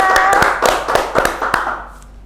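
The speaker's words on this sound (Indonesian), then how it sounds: "Tepuk tangan." About eight sharp hand claps ring out in an uneven rhythm over a sustained musical tone that fades away at the end.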